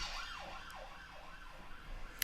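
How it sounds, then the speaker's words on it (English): A police siren wails outside in a rising and falling sweep that repeats several times, heard from a moderate distance and fairly faint under a steady background hum. "These police always blasting their siren"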